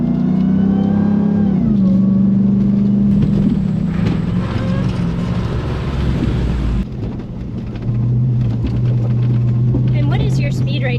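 A car drives along a road, its engine drone rising in pitch as it picks up speed and then holding steady, heard from inside with a constant road roar and voices in the cabin.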